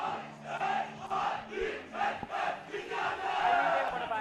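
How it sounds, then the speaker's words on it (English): Crowd noise at an under-16 schools ten-a-side football cup semi-final, a steady roar of many voices rising and falling with swelling cheers, fairly loud and continuous throughout. "Plenty of crowd for Vidyartha"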